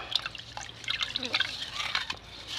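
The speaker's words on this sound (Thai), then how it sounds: "เดี๋ยวก็เทลงถังน้ำนะครับ" Water poured into a bucket of about ten liters while mixing a fermented photosynthetic bacteria brew, heard as close, steady splashing and trickling throughout.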